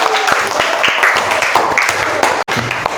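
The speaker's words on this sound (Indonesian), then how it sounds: "berikan tepuk tangan" Dense, steady clapping from an audience at an Islamic teaching session, filling the whole moment at close range with a brief dip near the end.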